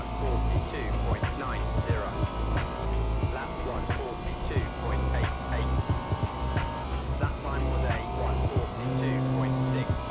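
A race car engine howls through hot laps at Fuji in the Le Mans Ultimate sim, with steady high revs, quick lifts and downshifts for corners, and a continuous loud drone throughout.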